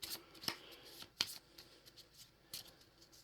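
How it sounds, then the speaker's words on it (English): Game cards for the Darkest Night second edition board game are shuffled together in a few soft, quick riffling bursts, close and quiet, with no talking. "We'll put those up with these guys up here and we'll shuffle those in."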